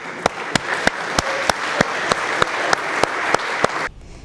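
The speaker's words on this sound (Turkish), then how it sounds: "Hepinizi alkışlıyoruz." An audience applauds at a charity donation gathering, a loud, even wash of clapping with a few sharper claps standing out, ending abruptly.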